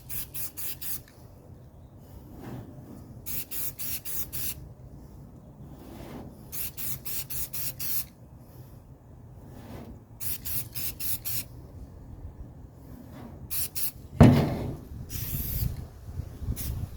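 Aerosol paint hisses onto brake parts of a 1979 Mercedes 300SD in repeated close bursts, each spray lasting about a second with short pauses between, ending in a louder clatter.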